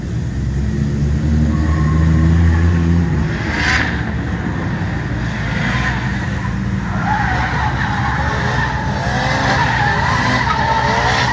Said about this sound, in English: Now the cars are on the start line, they're heating up their tires for the next run.